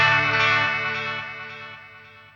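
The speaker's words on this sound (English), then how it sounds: "You can hear all that warble from the chorus pedal is in the delays." Guitar note run through a chorus pedal in series with delay pedals, a single sustained tone with obvious warbling modulation and repeating echoes that gradually fade out.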